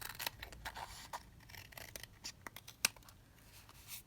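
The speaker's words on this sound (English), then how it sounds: "So we just cut that down there." Scissors snip through a paper napkin tab for a junk journal, a run of close, crisp cuts and rustles with sharp clicks of the blades, quiet overall with no talking.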